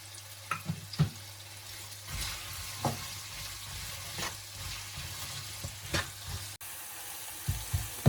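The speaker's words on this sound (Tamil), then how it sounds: "நல்லா வெங்காயம் பொரிஞ்சு கோல்டன் கலருக்கு வரட்டும்." Onions with salt frying until golden make a soft, steady sizzle close by, broken by repeated scrapes and taps of a spoon stirring the pan.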